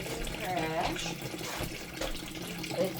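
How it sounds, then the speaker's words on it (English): Tap water runs into a kitchen sink with a steady splashing rush, close by, while someone talks over it. "Start running water."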